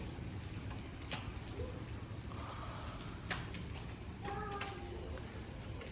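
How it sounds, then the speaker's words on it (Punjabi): Steady rain pattering on surfaces, with a few sharper drops and a faint voice in the background. "ਮੀਂਹ ਪੈਣ ਲੱਗ ਗਿਆ ਆਹ ਦੇਖੋ ਕਾਫੀ ਜ਼ਿਆਦਾ ਆ ਗਿਆ"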